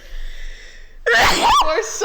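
A single sharp sneeze from a woman close to a microphone, a brief inhale followed by a loud burst and a short trailing breath, coming after a quieter stretch of background sound.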